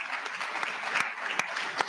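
Audience at a gubernatorial debate gives a round of applause for the event's co-sponsors, a moderate crowd clapping steadily for about two seconds, somewhat distant and even.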